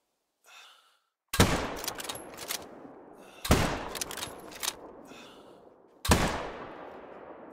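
Three loud rifle shots from the Call of the Wild hunting video game, spaced a couple of seconds apart, each a sharp crack trailing into a long echoing decay, after a faint breathy sound at the start.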